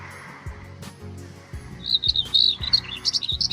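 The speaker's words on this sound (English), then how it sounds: "there was a very vocal whitethroat" A whitethroat calling during birding in Scotland, bursts of scratchy high chirps in quick succession, close and clear over faint rustling and low thumps.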